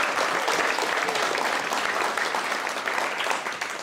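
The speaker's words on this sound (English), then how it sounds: "let's give another round of applause for the graduating class of California 983." A crowd applauds a guide dog graduating class at a Guide Dogs for the Blind graduation ceremony, a continuous wash of clapping that stays full and even before easing slightly at the end.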